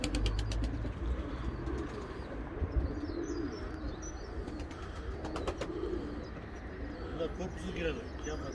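Pigeons of an old, long-kept breed line coo and chirp around the coop, with bursts of wing flapping, while people talk over the birds throughout.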